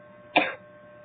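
A single short, sharp cough from a person, close and clear against quiet room tone.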